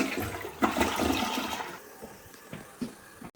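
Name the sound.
toilet flushing during leak test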